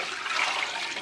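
Water pouring out of a pot of boiled corn as it is drained, a brief, fairly faint, even splashing rush.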